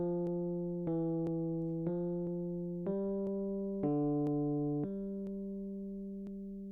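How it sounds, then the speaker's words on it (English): A piano plays the opening two bars of a simple song, about seven clear, sustained notes in a steady beat, with one note held longer, each fading slowly, alone and fairly soft. "If I was to play the first 2 bars of this song, it would sound like this."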